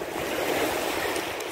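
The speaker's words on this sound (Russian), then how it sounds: "Волна шумит с нами." Sea waves break on a rocky shore near Gelendzhik as a steady, soft wash of surf, distant and fairly faint, with no voices.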